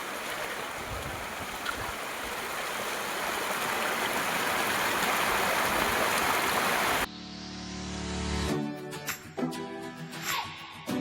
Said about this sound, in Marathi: म्हणजे जारा नाही नदी आहे छोटीशी